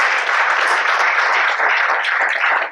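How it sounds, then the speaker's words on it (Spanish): A church congregation bursts into applause, a close, dense flurry of clapping hands that holds steady for a few seconds before cutting off abruptly. "Dale un aplauso a Dios"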